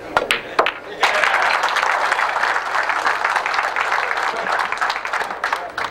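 Audience applause after a shot in a televised 2002 pool match between Corey Deuel and Troy Frank, with a few sharp claps first and then a full sustained roar of clapping that carries to the end.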